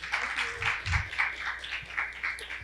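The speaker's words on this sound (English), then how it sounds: "A big round of applause for Jennifer Chandler." An audience applauds at the end of a closing talk at a neurophilosophy event, a steady wash of clapping from a room of people, moderately loud and unbroken.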